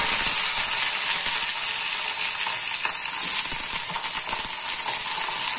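Brinjal frying in hot oil with popped mustard seeds in a pan, a loud, steady, dense sizzle close up with light scraping and no voices.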